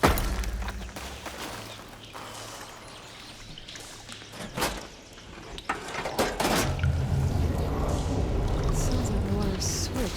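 Water in the video game Horizon Forbidden West switches and rushes through pipes. A sloshing, pouring flow grows louder, is broken by a few sharp clanks midway, and then settles into a steady, loud gush.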